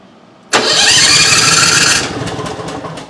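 A Briggs & Stratton Elite 10000 generator engine catches abruptly and roars loudly, close by, for about a second and a half, then settles into a steadier, somewhat quieter running tone.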